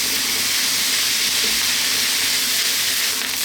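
Chicken fried rice fries and sticks slightly in a hot wok, a constant loud sizzling hiss with no pauses and no voices.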